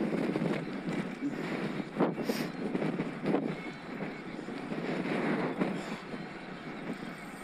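Strong gusty wind buffets the microphone while riding a Scott Addict RC eRide e-bike with a Mahle X20 motor in the Peak District, a steady loud roar that swells in several surges, with no talk over it.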